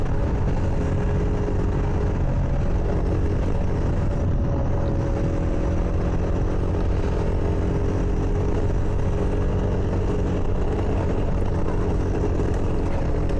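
A dirt motorcycle rides continuously through a forest, its engine buzzing loud and steady for the whole stretch with small swells in revs and no talking.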